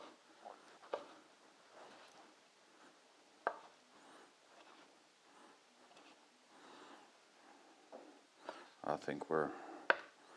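Grilled octopus being cut on a cutting board, with sparse knife taps and chops, a denser burst of cutting near the end, and a person speaking quietly at times.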